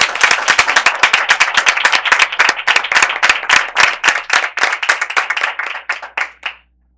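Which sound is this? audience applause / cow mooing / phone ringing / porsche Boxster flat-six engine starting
audience applause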